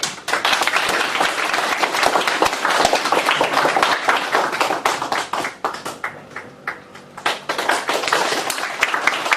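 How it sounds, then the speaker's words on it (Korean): An audience claps to welcome a professor before a university colloquium lecture, crisp, dense clapping close by that swells, dips midway and picks up again. "큰 박수를 부탁드립니다"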